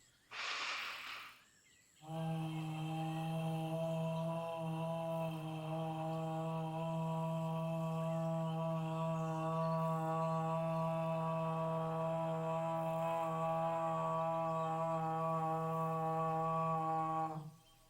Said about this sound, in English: make the lowest O sound you can